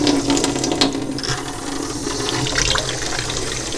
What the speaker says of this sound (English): I'm gonna put the faucet on here.